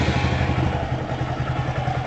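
A Honda Grom motorcycle engine runs steadily nearby, a close, even mechanical chatter at idle with no other sounds.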